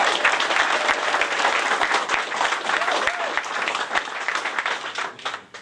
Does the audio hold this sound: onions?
no